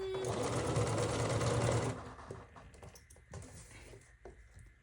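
Sewing machine stitching a strawberry blossom quilt block runs in a fast, steady whirring burst for about two seconds, then stops, leaving faint handling clicks and rustles.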